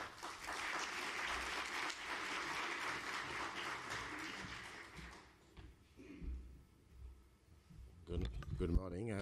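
An audience at a development conference claps to welcome keynote speaker Jean Tirole, a dense burst of applause that fades away after about five seconds, followed by scattered thumps and a brief stir near the microphone.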